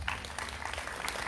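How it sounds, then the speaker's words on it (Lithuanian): An audience applauds for young singer Elzė at an outdoor courtyard concert in Šiauliai, with a short burst of scattered clapping that sounds faint and somewhat distant. "Tai dar kartelį plojimai Elzai."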